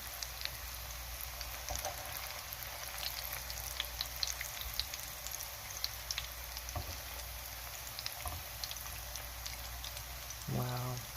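Eggplant meatballs fry in a pan with a steady, soft crackling sizzle throughout, sprinkled with small pops and spits, and a brief lower clatter near the end.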